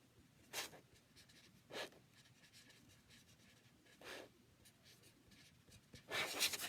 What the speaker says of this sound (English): I'm going to write "We belong together" on this part